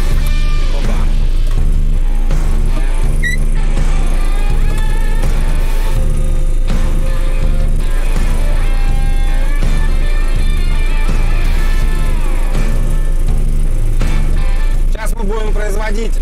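A Valtra tractor with a mulcher clears a power line corridor, its loud, steady engine drone and low rumble running continuously up close, with a few clanks and faint voices mixed in.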